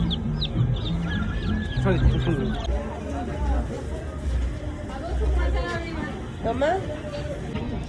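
Chickens cluck and squawk amid busy crowd chatter and background bustle at a market in America, with people talking nearby.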